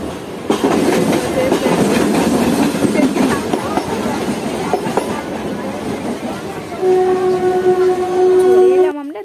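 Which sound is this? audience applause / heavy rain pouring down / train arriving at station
train arriving at station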